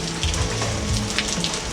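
Steady rain falls outdoors as a dense, even hiss with scattered drops pattering on surfaces, close and fairly loud throughout.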